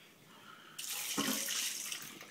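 Water from a sink tap gushes on suddenly, rinsing out a container after a home chemistry experiment, a loud close hissing rush with a splashing shift as the stream hits the container.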